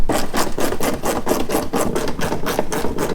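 Ratchet work loosening 10 mm bolts on a Toyota 4Runner fender, a steady series of rapid rasping clicks, about three per second, close and loud with no talking.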